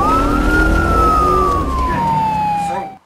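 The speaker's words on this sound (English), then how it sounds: "we can hear some sirens, which probably means that's the end of the fight" A loud emergency vehicle siren wails close by in a street fight scene from the film Jack Reacher, a single long descending tone that slides down in pitch and cuts off sharply at the end.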